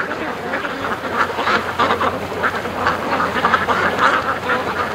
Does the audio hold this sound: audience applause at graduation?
no